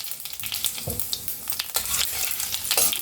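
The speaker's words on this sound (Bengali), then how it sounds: "আমি এর মধ্যে 2টো শুকনো লঙ্কা কাটিয়ে দিচ্ছি, আর খানিকটা সাদা জিরে দিচ্ছি," Dried red chillies and whole cumin seeds sizzle in hot oil for a Bengali chickpea and potato curry, a steady close crackling hiss with occasional stirring scrapes and no talk.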